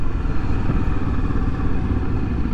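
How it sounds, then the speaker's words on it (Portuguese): A custom motorcycle rumbles by on a street in Paulo Afonso, Bahia, its engine a loud, steady, low drone with rattling noise and no voices. "Tem uma custom, uma moto custom."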